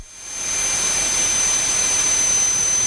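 A jet airplane engine roars steadily during takeoff, a loud, sustained broadband rush with a high whine running through it, heard close from inside the aircraft with no talking.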